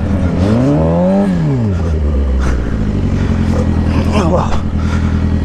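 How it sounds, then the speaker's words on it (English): A motorcycle engine revs up and falls back as the bike slides backwards, running steadily and close throughout, with voices in the background. "Bike slides backwards."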